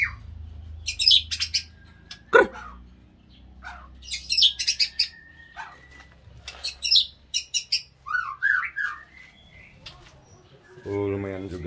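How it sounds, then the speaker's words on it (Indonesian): A captive white-rumped shama (murai batu) sings close and loud in repeated bursts of varied whistles, trills and chirps, with short pauses between phrases and a soft low background hum. "Oh, lumayan juga tuh burungnya Pak Yan."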